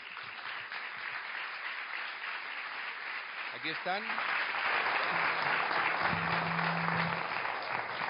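An audience applauds steadily as two debaters come out for a debate on inheritance tax, the clapping fairly distant and continuous under a host's voice, with a brief low hum toward the end.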